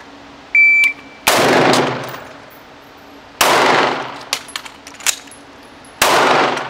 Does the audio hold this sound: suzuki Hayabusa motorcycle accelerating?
no